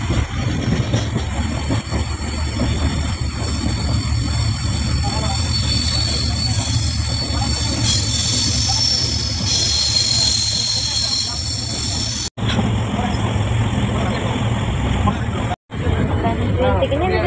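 Steady interior noise of a moving train, with a broad continuous rumble and rattle holding loud and even throughout, briefly cutting out twice near the end.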